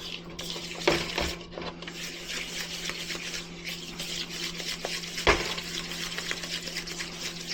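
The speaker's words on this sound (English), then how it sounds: "we're just gonna stir this together" Banana bread batter mixed with melted butter is stirred in a bowl, giving soft wet scraping and squelching that goes on continuously, with a couple of sharper knocks against the bowl.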